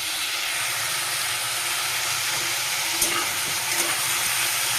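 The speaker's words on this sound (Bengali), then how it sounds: "তো চলো কড়াইতে তেল দিয়ে আলুটা ভাজি।" Potatoes frying in hot oil in a wok, a loud, dense, continuous hiss and sizzle close by, with a couple of faint stirring knocks.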